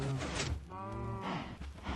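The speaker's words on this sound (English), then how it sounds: "Cows. They're falling in." Cows in a Minecraft farm moo in a short game sound, one clear low drawn-out moo with a second overlapping call, moderately loud and alone.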